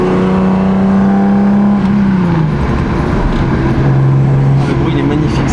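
A Japanese-market Volkswagen Golf, an old-school car with basic seat belts, revs its engine up and down with a steady drone and pitch swings, heard up close while people talk over it.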